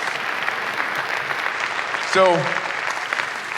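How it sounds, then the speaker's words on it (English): Podcast audience applauding at a live taping in Springfield, Missouri, a short burst of clapping that swells briefly and fades, following a man's speech. "Give him a round of applause."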